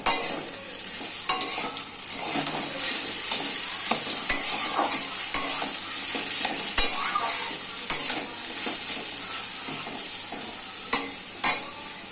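Potatoes frying and being stirred in a pan, with a steady hiss and sizzle of hot oil and repeated scraping strokes of a spatula. The sound is close and continuous, with no voices.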